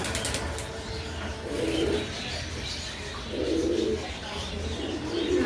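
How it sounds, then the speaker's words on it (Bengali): Pigeons in a loft of fancy breeds, including young Afsan grizzles, give low rolling coos in several swells over a steady background hum, with faint chirps and a little wing movement. "দেখতে পাচ্ছেন 3-4 ফেদারের কবুতরটি"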